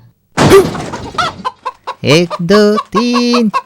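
Cartoon chickens clucking inside a coop in a Malayalam animated farm scene, a series of short, close, voiced clucks and squawks that grow longer toward the end, heard alone without talk.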